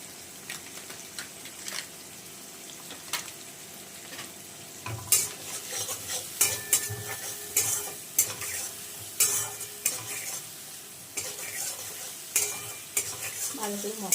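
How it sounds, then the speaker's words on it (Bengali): Ground cumin and Kashmiri chili powder fry in a pan, a low sizzle under frequent stirring scrapes and clinks of a spoon against metal, growing busier and more rhythmic partway through, close by. "ভালো করে মশলাগুলো আমি কষিয়ে নেব"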